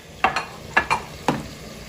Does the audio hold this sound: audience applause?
no